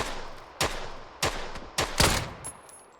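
AKM rifle fire in the video game PUBG: four or five sharp single shots at uneven intervals, loud and crisp with short tails, in a game setting with no talk over them.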